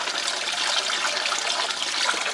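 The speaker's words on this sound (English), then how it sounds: "drifting the water straight down, straight off the edge" Water running off the edge of a DIY miller table, a steady close trickling and splashing flow that continues evenly throughout.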